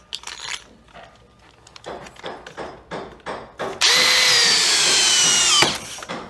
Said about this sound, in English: You see how fast that goes with the drill at speed setting two?